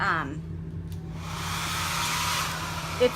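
A hair dryer blows steadily to dry pink chalk on a Valentine's Day sign, a continuous close broadband whoosh holding for the full length with a faint brief knock near the end.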